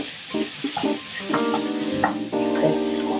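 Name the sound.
stir-frying in a pan on medium-high heat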